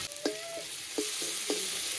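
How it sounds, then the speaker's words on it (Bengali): Garlic tempering in the oil left over from frying small fish gives a steady, close sizzle, with a few sharp clinks of stirring against the pan and no talking. "এবার ওই বাদ বাকি তেলে কিছুটা পরিমাণ রসুনটা ফোড়নে দিয়ে দেবো"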